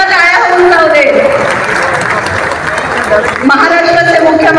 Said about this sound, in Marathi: जोरदार एकदा टाळ्या होऊन जाऊ दे